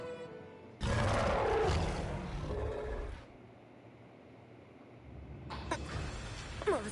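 A loud, harsh wild beast roar from the Sword Art Online video game, a sustained growl lasting a couple of seconds, followed by quieter rumbling and another rough burst near the end.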